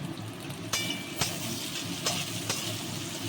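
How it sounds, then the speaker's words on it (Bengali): Tomato added to onion and garlic frying in a pan gives a steady close sizzle, broken by a few sharp bursts and clatters as the pan is stirred, with no voices. "পেঁয়াজ রসুনটা প্রায় ভাজা হয়ে গেছে আমি এবার একটা টমেটো দিয়ে নিচ্ছি"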